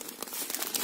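Tissue paper crinkles close up in brisk, continuous rustling bursts while a soap-making supply parcel is unpacked.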